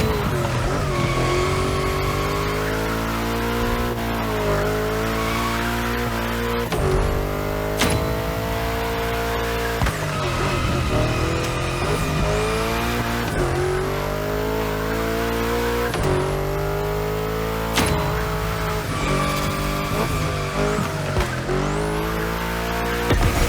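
A race car in The Crew Motorfest corners hard, with a loud engine revving and dropping through repeated gear shifts while tires squeal and skid through a series of bends.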